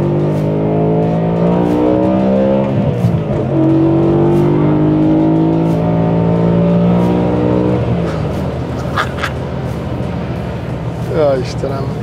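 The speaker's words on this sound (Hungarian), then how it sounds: "van rajta egy Eisenman kibufogódob" BMW E92 M3 coupe fitted with an aftermarket Eisenmann exhaust, revving loudly and close by in a steady rising and falling drone throughout, with people talking over it.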